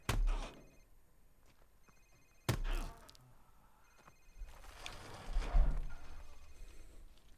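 A mobile phone rings in Call of Duty Modern Warfare Remastered, with a few short electronic trills between heavy thuds and game noise, then a busier burst of in-game sound near the end.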